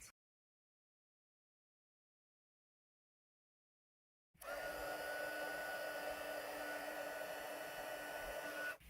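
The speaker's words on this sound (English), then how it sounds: "And again, I'm going to heat it, emboss it in white." Heat tool melting white embossing powder on a birthday card switches on after several seconds of silence, then blows a steady, close whooshing hum before cutting off at the end.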